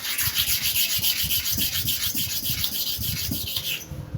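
A blade is rubbed to and fro on a sharpening stone in quick, even strokes, a dry rasping scrape repeating about twice a second, close and steady, then stopping abruptly near the end.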